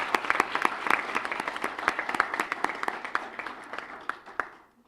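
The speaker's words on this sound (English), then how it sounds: "Let's give them all a round of applause." An audience applauds award recipients at a ceremony, crisp individual claps clearly audible within the crowd's clapping, fairly close, gradually thinning and fading out toward the end.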